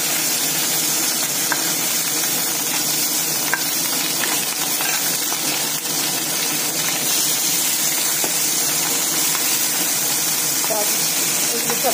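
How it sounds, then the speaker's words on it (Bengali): Bata fish frying in hot oil in a kadai, a dense, loud, continuous sizzle with faint crackles and occasional stirring clinks. "আর এই যে তেলটা গরম হয়ে গেছে, এই মাছগুলোকে আগে ভেজে নেব"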